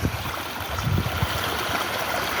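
Sewage and pond water pouring off a ledge like a small waterfall in Handiaya, near a government hospital and water department office, makes a steady, close, rushing wash with low gurgling throughout.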